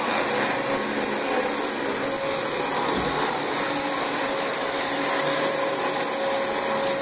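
A Dyson DC25 upright vacuum cleaner running steadily over a heavily soiled carpet, a loud close continuous motor whine and airflow roar with no talking.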